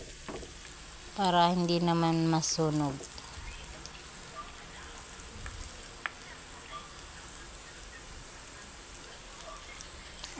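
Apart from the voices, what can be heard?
frying chicken in oil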